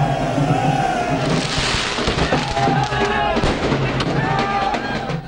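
Fireworks crackle and pop at a Holi celebration in Uttar Pradesh among a noisy outdoor crowd, with scattered bangs under continuous voices and festive noise.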